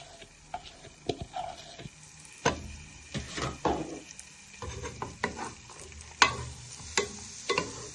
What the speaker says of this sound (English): Now you're going to fry everything.